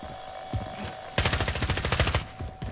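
Rapid automatic gunfire in a Battle Royale video game, a loud steady burst of close shots lasting over a second after a few lighter earlier shots, with no talk.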